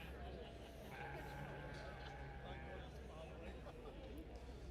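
Dutch Spotted sheep bleating in a show ring, a few calls rising over a steady hum of crowd chatter and background noise, with people talking nearby.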